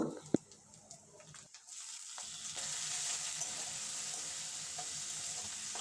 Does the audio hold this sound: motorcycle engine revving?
no